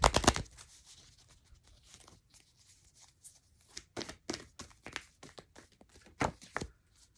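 Tarot cards being shuffled and drawn by hand, giving close, crisp papery taps, flicks and slaps in irregular bursts, with quieter rustling between them.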